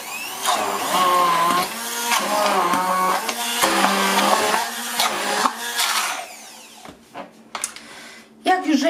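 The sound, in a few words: blender mixing cheesecake batter with butter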